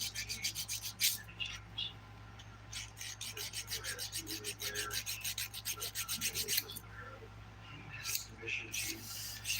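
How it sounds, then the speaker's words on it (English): Close, rapid rasping strokes of a nail file and buffer working a stiletto-shaped nail, a dense run of short back-and-forth scrapes at a steady rhythm with a faint low hum underneath. "you might just need a buffing, to smooth out the surface of your nails"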